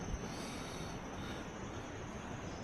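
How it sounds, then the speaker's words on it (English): Loud, constant roaring gale buffeting outside a jungle camp at dawn, a dense steady rush with no pauses and no voices. "Oh, it's incredibly windy."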